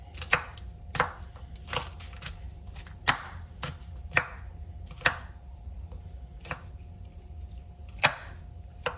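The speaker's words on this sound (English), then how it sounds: "For the garlic, I don't even think I'm going to peel it. I think I'm just going to chop it up." A knife chops unpeeled garlic on a cutting board, sharp close thuds landing in a loose, uneven rhythm about once a second, with a faint background hum and no talking.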